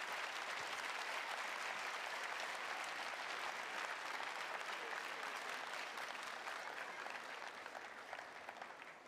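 Sustained applause from a tennis tournament crowd at a Challenger final's trophy ceremony, steady and dense clapping throughout, tapering slightly toward the end.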